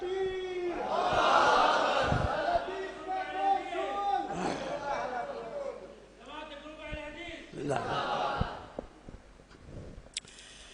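A crowd shouts back in a loud collective roar after the takbir slogan is called at an Urdu religious speech, with several surging bursts of voices over about ten seconds.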